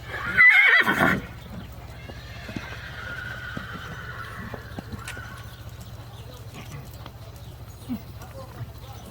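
Horses at a parade during the 2021 Straparijada in Gornja Mravica: a loud, close whinny bursts out at the start, then fades to a steady low murmur of hooves and crowd noise for the rest.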